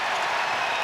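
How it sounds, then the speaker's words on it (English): A basketball crowd at a women's college game, East Tennessee State at NC State, applauds in a steady wash of clapping and cheering that fills the short moment. "Crowd is getting into it."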